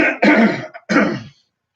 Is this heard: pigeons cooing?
no